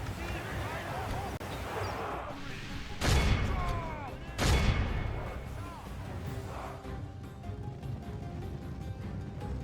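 Troops fire in a medieval battle in the video game Crusades, with volleys of distant gunfire, two louder booming bursts, and someone talking over the battle noise.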